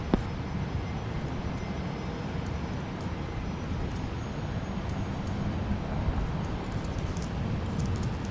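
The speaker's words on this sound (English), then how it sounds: "So this is a FlexJet Flight 455 from Atlanta, Gulfstream" A FlexJet Gulfstream G450 business jet arrives at Dallas Love Field in the rain, a continuous low rumbling engine roar that holds steady and swells slightly, heard from a distance with no voices.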